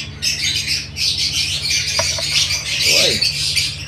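Young fledgling birds squawk in a noisy, continuous chorus of harsh, high calls, close and loud over a low background hum.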